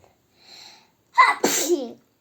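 A single sharp, loud sneeze preceded by a short intake of breath, close to the microphone in an otherwise quiet room.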